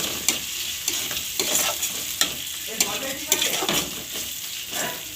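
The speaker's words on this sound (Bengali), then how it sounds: "আদা রসুন পেস্ট দেবো, দিয়ে ভালো করে কষিয়ে নেব।" Ginger garlic paste frying in a pan with a steady sizzle, stirred with a utensil that scrapes and taps against the metal in irregular knocks.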